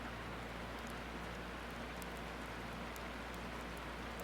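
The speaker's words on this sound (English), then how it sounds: "The rain continued its steady rhythm." Steady rain falling at night near a lakeside summer camp, a soft, continuous hiss with faint scattered drop ticks and a low hum beneath, quiet and unbroken throughout.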